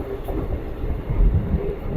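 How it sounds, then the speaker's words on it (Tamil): A train rolls slowly along a rail line between Dharmapuri and Muthampatti, giving a low, rumbling drone with soft rhythmic wheel thumps, heard close from on board without any talking. "இந்த ரயில் ஸ்லோ ஆச்சு"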